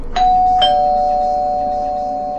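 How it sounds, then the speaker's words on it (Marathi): A household doorbell rings once, a clear two-tone electronic ding-dong whose second note rings on and slowly fades, loud and close. "पण पुन्हा घराची बेल वाजली"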